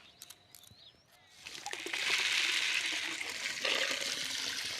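Water from a tap runs into a farm water trough, a steady broadband rush that starts softly and swells loud after the first second, continuing without a break.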